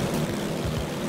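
A biplane's propeller engine in flight in Totally Reliable Delivery Service, a steady, close droning hum with no break and no talk.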